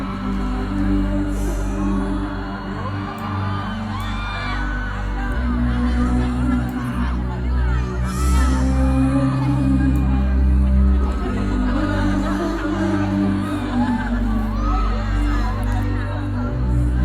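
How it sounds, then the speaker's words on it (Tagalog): A large audience cheers and shouts at a live concert in Dubai, a steady roar of crowd voices throughout with scattered whoops rising over sustained music. "Lakas ng hiyawan."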